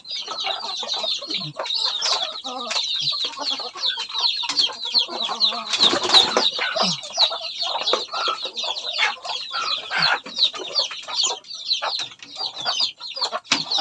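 A red junglefowl (manok labuyo) kept in a cage clucks repeatedly at close range, a busy run of sharp, rapid calls with a brief flurry of flapping near the middle, steady and loud throughout.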